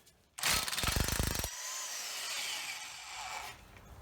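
A ratchet wrench clicks rapidly in a fast, loud burst while loosening an 18mm nut on a 2003 Ford Focus motor mount clamped in a vise, then stops, leaving a softer mechanical hum and rustle.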